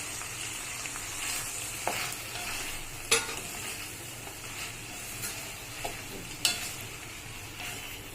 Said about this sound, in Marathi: छान ढवळून घेऊया आपण।